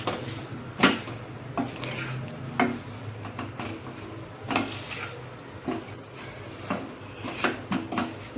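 Gooseberry pickle being mixed with a handful of garlic cloves in a bowl, giving close, repeated clattering scrapes and knocks of utensil against dish at an irregular rhythm, with no talking.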